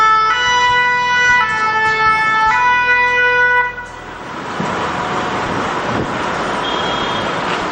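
A SAMU ambulance siren sounds as emergency medical services arrive at a business site during an internal emergency operation plan deployment. The loud, steady two-tone wail lasts about four seconds, then cuts off, leaving rumbling engine and road noise.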